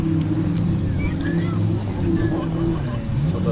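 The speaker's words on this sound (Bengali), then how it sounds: "ছোট ছোট জাহাজ, স্পিড বোট এখানে আশেপাশে চলছে।" Boats on the sea at Jeddah, with a steady low motor drone carrying throughout, blended with wind and water wash. People talk faintly in the background.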